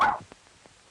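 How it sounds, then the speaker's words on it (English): A single short dog bark at the start of an old 1936 film scene, loud and close, then fading into quiet room tone with faint small sounds. "Oh, what kind of a dog is this?"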